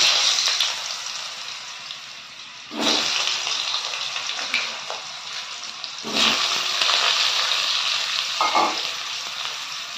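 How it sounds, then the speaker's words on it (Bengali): Cut potato pieces tumble into hot oil and start frying, a loud steady sizzle that surges with each new addition and keeps crackling throughout, close up. "তেলটা গরম হয়ে গিয়েছে, এইবার এর মধ্যে দিয়ে দিচ্ছি টুকরো করে রাখা আলুগুলোকে।"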